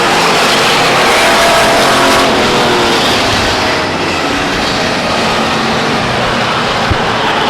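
Stock race cars at Stockton 99 Speedway roar past in a loud, continuous engine drone that builds and then eases slightly as the pack runs down the front stretch, with no voices audible.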